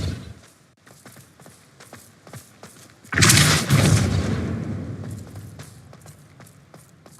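A Depulso force spell cast in Hogwarts Legacy: a sudden loud blast bursting in midway, preceded by quick footsteps and followed by a decaying rumbling tail.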